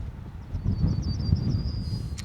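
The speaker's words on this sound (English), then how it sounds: "It's quite windy up here" Wind buffets the microphone on top of Castle Hill overlooking the Moray Firth, a steady low roar that runs through the whole stretch with no voices.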